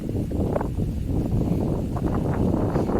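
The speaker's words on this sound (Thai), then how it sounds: "ลมโคตรแรงเลย" Very strong wind sweeps across an open field at a rifle shooting range, producing a loud, steady low rumble and buffeting on the microphone with no other clear sounds.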